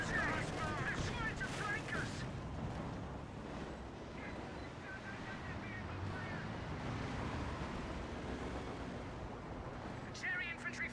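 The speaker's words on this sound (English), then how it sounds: "Cherry infantry firing at us." Infantry gunfire in a multiplayer war video game with an Axis side: scattered shots crackle through a dense, steady wash of battle noise and wind-like rumble across the whole stretch.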